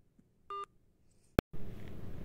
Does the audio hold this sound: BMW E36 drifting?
no